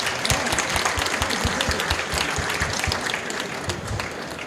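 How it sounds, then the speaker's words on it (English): Steady applause from a conference audience at a COP27 climate panel session, dense sustained clapping throughout with a few louder individual claps standing out, no voices over it. "We're going to just one more round of applause for Ali"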